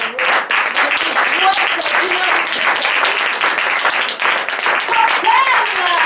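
Applause and clapping from an audience greet improv theatre actors returning to the stage at the end of an improv workshop show, lively and uneven, with scattered voices and cheers mixed into the clapping.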